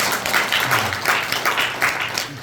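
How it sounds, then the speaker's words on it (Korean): Applause from a workshop audience greets a staff manager being introduced at a foundation's New Year meeting, a continuous mass of clapping with a voice briefly heard beneath it. "이메리 부장 박수 한번 쳐주십시오"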